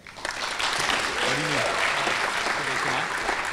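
Audience applause at a hackathon closing ceremony, a steady wash of clapping held for several seconds, with faint voices underneath.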